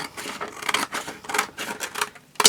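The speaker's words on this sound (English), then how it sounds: "we are going to use our long scissors and we are going to cut this out just like so" Long scissors cutting out a cardboard pattern, a run of about eight crisp snipping strokes in an uneven rhythm, close and fairly quiet, each cut a short rasping crunch, with a sharper click at the very end.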